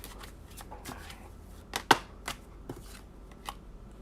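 Tarot cards being shuffled by hand before a three-card pull, quiet papery riffles and taps in short, uneven bursts at close range.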